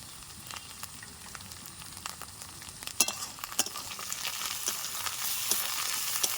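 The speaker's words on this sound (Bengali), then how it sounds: "মশলাটা দিয়ে ভালো করে নাড়াচাড়া করে নেব সুন্দর করে কষে নিচ্ছি" A spice paste of green chili, chili powder and turmeric fries in a pan, a soft sizzling hiss with frequent sharp spatula scrapes and clinks as it is stirred, growing a little louder toward the end.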